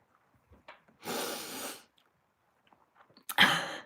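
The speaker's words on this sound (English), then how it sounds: "I got the sniffles here" Two loud, breathy sneezes close to the microphone, spaced a couple of seconds apart, with faint sniffles and small breaths in the quiet gaps between them.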